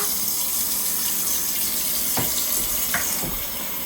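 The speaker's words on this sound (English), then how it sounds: "we're going to fill this pan with some water" Tap water runs steadily into a cooking pan being filled for boiling pasta in a home kitchen, a constant close rushing hiss with a few small knocks and splashes near the end.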